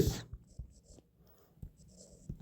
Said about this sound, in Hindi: हम यहाँ पे एक लाइन लिखेंगे